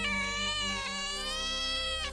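A cat cries out in one long, drawn-out, wavering meow, loud and close, with a rising tone at the end and no other sounds.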